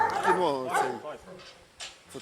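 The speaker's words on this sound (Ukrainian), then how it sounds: "Бойового собаку за кличкою Тайсон виводять на пост." A military guard dog barks and whimpers in a few loud, close yips, with someone speaking alongside and afterward.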